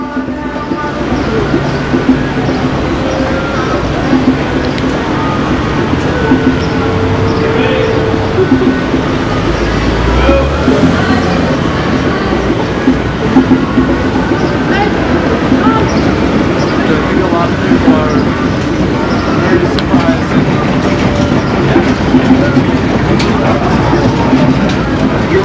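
A train rumbles past with steady rail clatter and a broad roar that holds for the whole stretch, loud and close, while people shout and talk over it.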